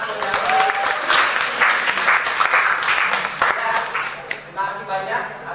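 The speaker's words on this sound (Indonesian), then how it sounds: "boleh kasih tepuk tangan ya." A class claps for a group that has just presented in a mathematics lesson, a lively burst of applause while voices speak over it, fading toward the end as talk continues.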